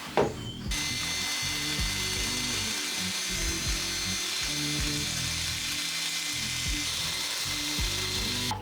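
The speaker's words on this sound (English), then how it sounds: "Cordless nibbler." A cordless nibbler chewing through sheet metal, a loud rapid rattling chatter over a droning motor hum that runs almost continuously for several seconds at close range with no speech.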